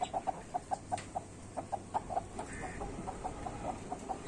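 Chickens released outdoors cluck in short, evenly spaced bursts, a steady run of near, moderately loud calls with no one talking.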